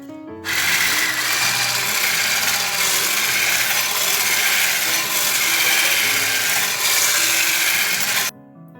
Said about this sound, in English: Now we'll beat this mixture with a whisk.